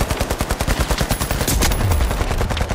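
Gunfire in the shooter game The Finals, a loud, rapid run of evenly spaced shots at close range, followed by a heavier burst and a low rumble near the end.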